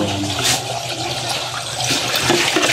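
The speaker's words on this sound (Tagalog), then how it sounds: "Bubuhusan ulit natin. Titignan natin kung may bara." Water poured down a drain to test for a clog, a loud rushing splash and gurgle that swells and surges unevenly over a few seconds, close by with no talk.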